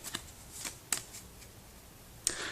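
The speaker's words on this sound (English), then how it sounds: "What we then need to do is to shuffle the discard pile." Quiet riffle of a deck of game cards being shuffled during a cooperative Forbidden Island board game, with a few soft papery flicks and two sharper snaps spread across a short, otherwise hushed moment.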